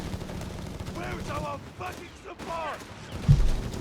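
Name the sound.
30 cal machine gun firefight in video game Company of Heroes 3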